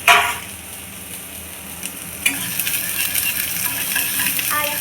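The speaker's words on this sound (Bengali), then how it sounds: "পেঁয়াজগুলো কুচি কুচি করে কাইটে পেঁয়াজগুলো কড়াইয়ের মধ্যে আস্তে আস্তে ছেড়ে" Chopped onions are dropped into hot oil in a kadai at an Indian street food stall, a sharp sizzle at the start that settles into a steady frying hiss, with a metallic clink midway.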